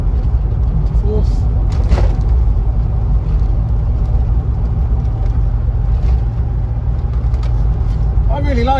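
A manual Land Rover Discovery 3 with a V8 engine and LPG fitted drives along a road, its engine a steady loud low rumble with road noise inside the cabin, while a person talks over it.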